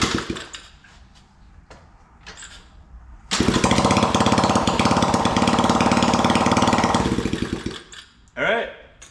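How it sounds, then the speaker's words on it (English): A 70cc Coolster engine with no muffler is kicked over and then runs for a few seconds in a loud, harsh, rapid raw bark before cutting out, with quieter handling noises before and after. "kind of just want to kick it over, see it run before I put it all back together"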